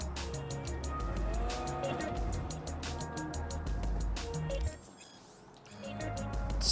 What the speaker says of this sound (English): I'm just doing J-turns in the middle of the street.